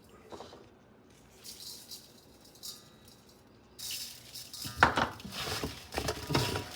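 Salted eggplant pieces are tossed and mixed in a bowl, giving soft rattling, clinking handling noises, quiet at first and then louder, busier rustling and knocks close by with no talk.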